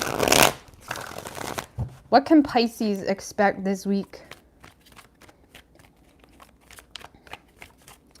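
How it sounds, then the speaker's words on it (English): Tarot cards are shuffled in quick, crisp riffling bursts lasting under two seconds. A voice then speaks clearly over the following quiet. "3 shuffles."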